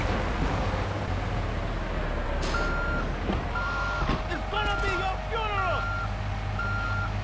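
Repeated electronic reversing beeps from a garbage truck in the video game GTA 3, a steady evenly spaced series heard over engine hum and game noise, with a voice talking.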